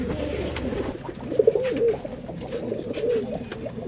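Pigeons coo in soft, low, repeated throaty phrases close by, several overlapping calls over faint background noise, with no speech.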